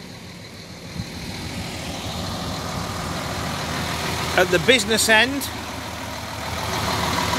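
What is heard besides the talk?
Neoplan coach Euro 5 MAN engine idling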